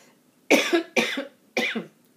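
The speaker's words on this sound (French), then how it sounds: "Je suis désolée, j'ai une énorme toux." A woman coughs three times in quick succession, each a sharp, harsh burst close to the microphone, separated by short pauses, in an otherwise quiet room.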